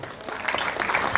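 An audience claps at the Hindustan Ratna Awards 2024 ceremony: a short, fairly faint burst of dense applause that builds slightly toward the end.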